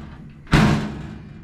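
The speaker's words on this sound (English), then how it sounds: "so the door closes" A rusty Ford Model T car door swings shut with a single loud, close metallic thud, followed by a short fading rattle and ringing.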